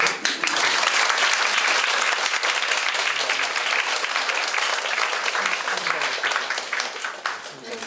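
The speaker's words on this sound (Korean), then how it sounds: "다시 한번 큰 박수로." Dense, sustained applause from a seated audience at a literary reading night, loud and even throughout with many overlapping claps that taper slightly near the end.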